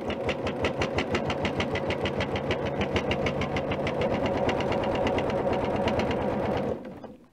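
A sewing machine stitches through six layers of quilted fabric and wadding, a loud, rapid, even mechanical chatter running steadily for several seconds before stopping abruptly.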